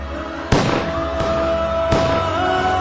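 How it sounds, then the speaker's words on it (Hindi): Three sharp cracking gunshots fired at kar sevaks in Ayodhya go off about two-thirds of a second apart, loud and echoing over a steady background hum. "कार सेवकों पर गोलियां चली"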